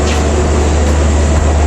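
Padma Express passenger train from Dhaka Kamalapur to Rajshahi running at night, a steady loud low rumble with continuous rolling noise and no voices.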